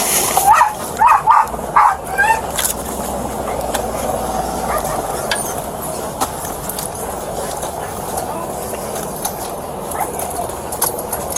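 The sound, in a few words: police K-9 dog barking during arrest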